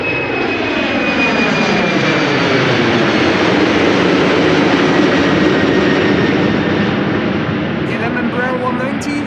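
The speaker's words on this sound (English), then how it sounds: "ETA flight 107 to Rome. Taking off from center." A departing airliner at Amsterdam Schiphol Airport, flight 107 to Rome, gives a loud, steady jet engine roar throughout as it takes off. The roar stays broad and continuous, and a voice talks faintly underneath.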